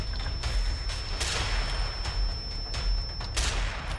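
Gunfire rings out in the video game Serious Sam 4, a series of sharp booming shots and thuds that repeat irregularly over a constant loud background of game sound.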